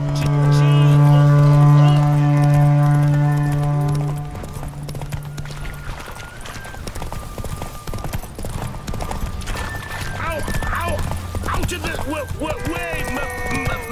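Horse hooves clip-clop in The Witcher 3 during a mounted race, a steady rhythmic beat that follows a long sustained tone at the start, with speech and game music around it.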